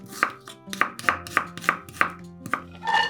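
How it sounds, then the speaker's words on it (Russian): An onion being diced with a knife on a board: a quick run of crisp, close chops at a steady pace, then a brief rustle at the end, with no speech. "1 луковицу нарезаем кубиками."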